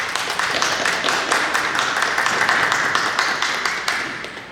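An audience at a novel presentation in the Biblioteca Vasconcelos applauds the author, a dense, steady burst of many hands clapping close by that eases slightly toward the end.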